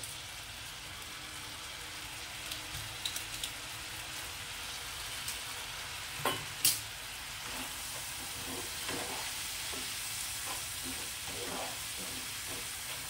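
Maggi masala and tomato sauce stirred in a frying pan, a soft continuous sizzle and hiss with a few clinks and scrapes of the spoon, fairly quiet and close, with no talking.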